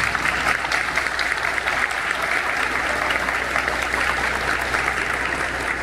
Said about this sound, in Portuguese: Eu queria que todo mundo aplaudisse meu sonzinho.